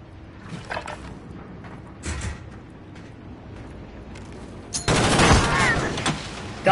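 Kilo rifle fire in a video game gunfight: a few short early bursts, then a loud sustained burst of rapid automatic shots close up, with faint voices around it.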